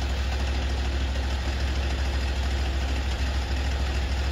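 A Vigorun MTSK1000 remote control flail mower engine idles steadily and loudly at minimum throttle, a continuous low rumble with a faint knock, heard alone and close.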